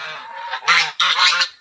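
A goose honks a few times up close, short nasal calls in quick succession.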